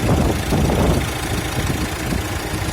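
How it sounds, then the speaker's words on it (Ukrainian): A Renault Master van diesel engine with 152,000 km idles with a steady low knocking rumble, close and even, running alone without any voices. "Оце зараз працює моторчик."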